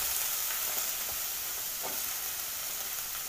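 Chopped vegetables go into rice cooking in a pan, setting off a soft, continuous sizzle and frying hiss with a few faint stirring scrapes, fairly quiet and with no voices.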